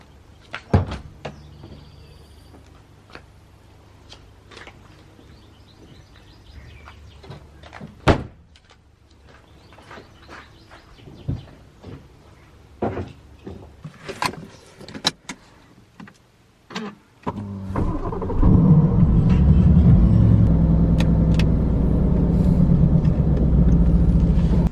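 Someone gets into a car: scattered clicks, thumps and a door slam over quiet moments, then the engine note and road rumble of the car driving off rise loud and steady for the final stretch.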